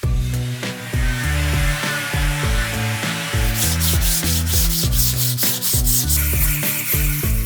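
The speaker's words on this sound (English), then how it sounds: "I use the Klingspor plastic support plate and 100 grit grinding discs." Sustained abrasive sanding from a 100-grit grinding disc on a flexible plastic backing plate, shaping a custom motorcycle rear fender, steady and loud throughout, with a rhythmic pulsing whir and scraping grit against the surface.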